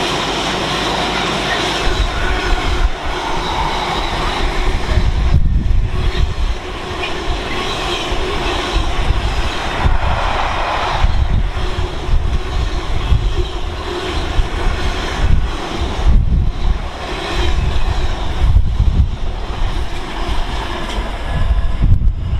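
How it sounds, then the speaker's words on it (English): A Freightliner Class 66 diesel locomotive, number 66529, hauls a freight train from Felixstowe to Garston through Stafford on the West Coast Main Line, a loud, steady roar of engine and wagon rumble with rail clatter sustained throughout. "coming through now is another freight service. It's the Freightliner 66. 66529."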